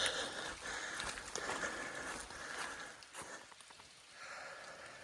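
Light rain drips on an Appalachian Trail path in a whiteout, soft scattered patters and taps over a faint hiss, quiet and close, with no one speaking.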